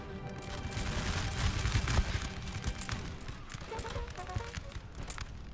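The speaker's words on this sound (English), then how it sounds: "These guys are going to fire any second now." A line of musket infantry in the Napoleon: Total War video game fires a volley, a dense rolling burst of crackling shots rising to a peak and then thinning into scattered battle noise.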